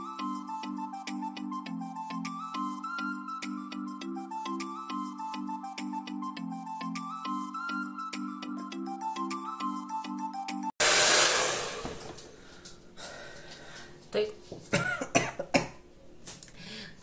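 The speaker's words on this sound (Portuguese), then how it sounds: "Penteei, alinhei, vou secar o cabelo." A hair dryer blows steadily on short hair after a stretch of tonal electronic music, its broad whooshing rush alone and close, with a few short coughs or throat sounds near the end.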